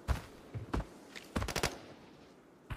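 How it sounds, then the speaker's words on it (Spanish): Gunfire in the Arena Breakout shooter game, several short bursts and single shots at moderate distance, irregular and fairly faint. "Disparo, disparo."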